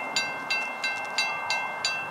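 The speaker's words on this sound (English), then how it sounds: "95 tech train, eastbound at Carlin Crossing with 2241 in the lead." Canadian Pacific locomotive 2241 leading an eastbound tech train past Carlin Crossing near Tappen, BC, heard as a steady rolling rumble with regular wheel clicks over rail joints, moderately distant.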